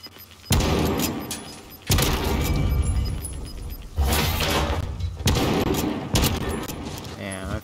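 Bursts of gunfire from the video game Modern Warfare during a multiplayer gunfight, loud sustained volleys in four or five separate clusters with brief gaps between them, heard close and dense across the whole stretch.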